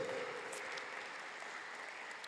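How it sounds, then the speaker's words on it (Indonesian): Faint, steady clapping from a church congregation at a Sunday worship service, a brief continuous patter heard at a distance. "Mari kita tepuk tangan, luar biasa."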